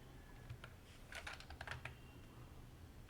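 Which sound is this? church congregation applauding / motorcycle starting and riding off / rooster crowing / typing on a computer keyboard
typing on a computer keyboard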